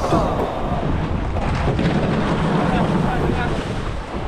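Rough sea waves and strong wind surround a small boat, a loud continuous roar with heavy wind buffeting on the microphone and faint voices underneath.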